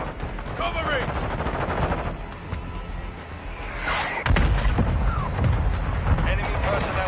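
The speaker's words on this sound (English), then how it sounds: "Friendly mortar strike on the way." Heavy gunfire and explosions rumble through a Call of Duty Modern Warfare 2 team deathmatch, with rapid shots and a deep booming impact midway, under dense battle noise and radio-style voices.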